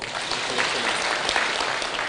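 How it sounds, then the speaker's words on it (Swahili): Crowd applause at a political rally at a high school, where Kenya's Deputy President Gachagua and UDA allies speak; dense, steady clapping from many hands fills the whole stretch without any talk. "Mpigieni ya makofi"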